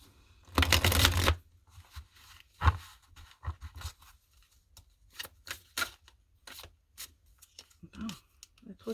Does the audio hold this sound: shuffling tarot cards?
yes